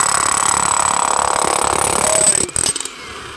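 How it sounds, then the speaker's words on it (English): A power drill grinds steadily through a basement wall during waterproofing work, loud and close for over two seconds, then stops abruptly, leaving a few brief rattles and a low background hum. "As you can see, we're drilling through the wall."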